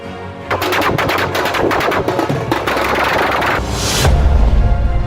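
A rapid, crackling string of fireworks bursts at a neighborhood celebration with drums, sharp bangs firing in quick succession, loud and close, ending in a deeper rumbling blast.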